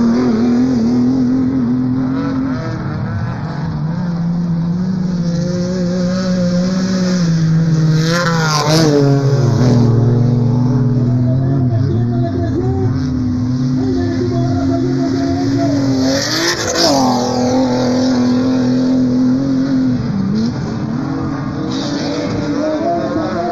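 Class 7 off-road short course race trucks at San José del Cabo in 2019 roar continuously, engines revving and shifting as vehicles pass close by, with a couple of louder sweeping passes.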